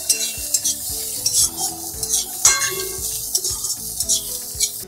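Jukti phool frying and being stirred in a pan with potatoes and bori over a raised gas flame, a steady close sizzle broken by repeated scraping strokes of the spoon against the pan.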